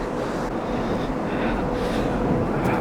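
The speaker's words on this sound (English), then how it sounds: "It's real windy" Strong wind buffets a microphone outdoors at a film photo shoot around dusk, a steady low roar that fills the whole stretch with no voices.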